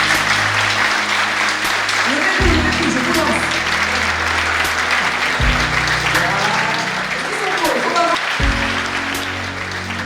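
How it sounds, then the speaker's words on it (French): An audience applauds loudly and steadily at an annual show, a dense wash of clapping lasting throughout with strong low music or hum underneath and no clear speech. "je souhaiterais que vous applaudissiez très fort pour eux"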